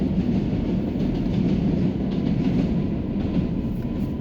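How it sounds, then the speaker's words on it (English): Rumbling roar of the NYC 7 train running on the elevated tracks over Roosevelt Avenue at rush hour, heard from a car below, loud and continuous with a dense low rattle of wheels. "you'll probably be hearing the train tracks every 5 minutes because right now it's rush hours."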